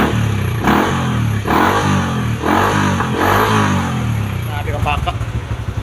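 Kawasaki Sniper 150 motorcycle fitted with an MVR1 aftermarket exhaust pipe and big elbow revs up and down in several loud, close bursts, its rasping engine note rising and falling steadily over about six seconds.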